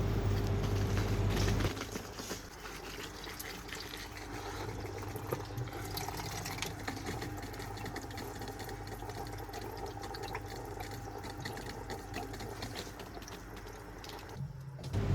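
Water runs steadily into an LG top-load washing machine, a continuous splashing, rushing pour that starts with a louder low gush and then settles into a constant stream.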